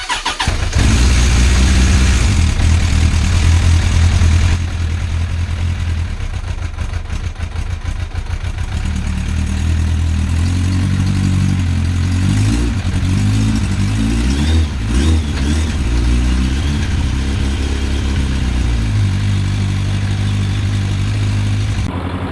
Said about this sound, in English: Now let's put some oil in the baby and actually see if it runs. Now it's time to start it.